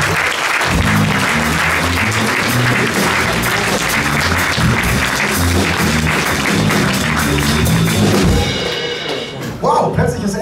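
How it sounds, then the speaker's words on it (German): Loud, sustained audience applause fills the room after a talent show final performance in the Pool Garden, steady clapping and cheering for about nine seconds before tapering off near the end. "Applaus nochmal. Und wir applaudieren einfach"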